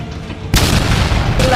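A cannon fires as a sudden loud boom that rolls into a sustained heavy roar, followed by a second blast a moment later, close and powerful.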